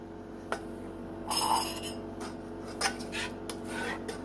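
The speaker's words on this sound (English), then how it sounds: "And let me bowl up the chili." Canned Wendy's chili is spooned into a bowl in a quiet kitchen, with scattered soft scrapes, clinks of a spoon against the dish and brief rubbing sounds, faint and close.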